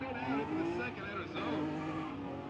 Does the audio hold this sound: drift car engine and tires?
yes